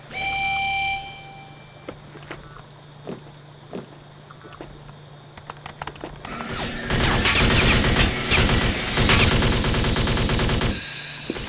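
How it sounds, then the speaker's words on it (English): Gunfire in a cutscene from the game Alpha Prime: sparse sharp single shots at first, then a loud sustained rapid burst of automatic fire that runs for several seconds before cutting off. "they're shooting once more"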